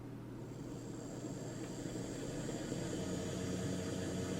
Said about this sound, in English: Let's get the locomotive on the rolling road and see how it performs.